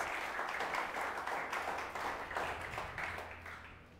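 A church congregation applauds during a Sunday service, steady dense clapping filling the room at an even level before tapering slightly at the end.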